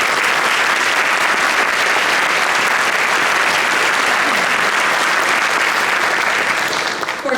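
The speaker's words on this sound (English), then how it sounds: "Can we give them a big round of applause," Steady, loud applause from a music festival audience at a high school honors music event, a dense crowd clapping continuously for about seven seconds before easing slightly at the very end.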